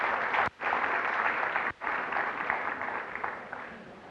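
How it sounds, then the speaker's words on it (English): Audience applause at the opening session of a professional conference: a sustained wash of many hands clapping at moderate volume, broken by two brief dropouts, continuing steadily for about four seconds. "please now give yourselves a round of applause for being here."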